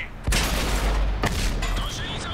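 Tank gunfire in the video game World of Tanks, played with a Valentine tank: two loud sharp cannon blasts about a second apart, each followed by a rumbling decay, with game sounds continuing after.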